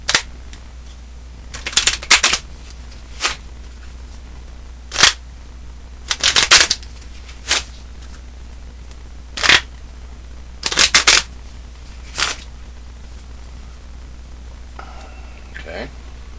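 Standard poker deck being shuffled by hand, a series of sharp riffling bursts spaced irregularly over a steady low hum, with a voice speaking between them.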